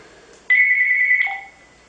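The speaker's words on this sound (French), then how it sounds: "Excusez-moi, il y a le téléphone..." An indoor telephone rings once with a steady electronic tone lasting about a second, loud and close, then falls silent.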